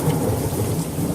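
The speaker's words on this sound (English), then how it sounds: "Finally, there's rain in this fucking game." Steady rain with rolling thunder from the Sherlock Holmes vs Jack the Ripper video game, a dense continuous downpour under a low rumble, brief and loud with no voices.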